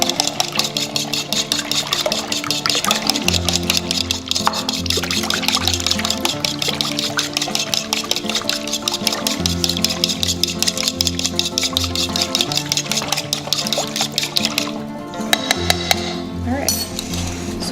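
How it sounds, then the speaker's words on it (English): A whisk beats waffle batter in a bowl while melted butter is slowly added, a steady rhythmic clinking and sloshing that runs throughout, close and fairly quiet, with a brief louder rattle near the end. "we need to whisk it quickly so that way the eggs don't cook because the butter is still warm"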